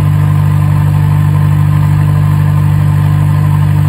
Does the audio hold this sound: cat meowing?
no